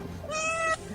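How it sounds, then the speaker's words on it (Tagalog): A cat gives a single clear meow lasting about half a second, moderately close, against a quiet background. "Ay, tinatgatlag a pusa!"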